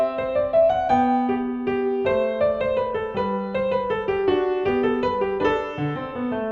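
Christian Petzold's Minuet in G on solo piano, a bright treble melody in lilting triple time over a moving bass line, played clearly and close with no voices.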